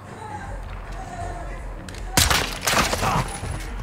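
A sudden burst of rapid gunfire in Call of Duty: Modern Warfare 2 on PS5 erupts after a quiet stretch of low rumbling ambience, with several sharp cracks following close together.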